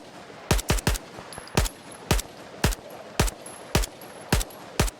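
Sharp weapon shots in Stalker 2 fired as firing modes switch: a quick cluster of three, then evenly spaced single shots, loud and close over a quiet background.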